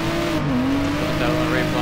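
A race car in Assetto Corsa, a Z280 on the Ottawa South circuit, slides sideways with a sustained tire squeal over its droning engine, loud and close, while someone talks over it.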